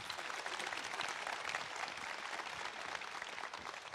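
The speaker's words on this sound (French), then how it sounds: "On peut quand même l'applaudir, s'il vous plaît." Audience applause at an actors' panel at the TGS Toulouse 2023 convention: a dense, steady wash of clapping from a large crowd, sustained and fairly loud throughout.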